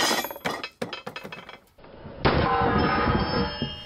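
A hammer strikes a composite panel of carbon fibre, Kevlar, Innegra or Diolen in an impact test, giving a rapid series of sharp, loud clanging hits followed by a sustained ringing, rattling clatter.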